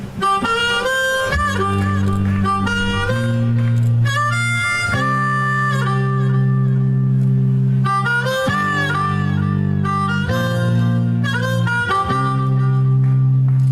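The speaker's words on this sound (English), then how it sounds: "the harmonica" A harmonica plays bright, reedy chords and a short melodic line, loud and near, with rhythmic breaths between phrases.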